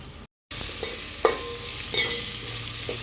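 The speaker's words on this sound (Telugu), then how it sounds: "నెక్స్ట్ అల్లం పేస్ట్. టమాటా ముక్కలు వేసుకుందాం." Tomato pieces and ginger paste sizzle and fry in a pan, a steady broadband hiss after a brief dropout, with a few soft stirring scrapes and clinks.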